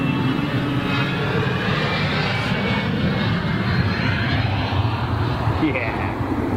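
A China Airways jet airliner takes off from a runway. The engine roar is loud and steady, with broadband rumble from a distance, and people talk over it.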